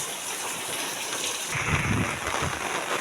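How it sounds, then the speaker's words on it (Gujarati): Heavy monsoon rain pours down steadily on a village market on Janmashtami, a dense, loud hiss of drops on surfaces, with a deep rolling rumble of thunder swelling midway. No voices are heard. "અમારે એક અત્યારે સારામાં સારો વરસાદ પડી રહ્યો છે"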